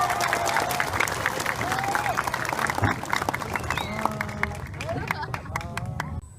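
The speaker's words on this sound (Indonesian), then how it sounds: "Tepuk tangan yang keras." Loud, continuous applause from a crowd at the XTC Soreang 22nd anniversary gathering, dense clapping with scattered louder claps and a background hubbub of voices.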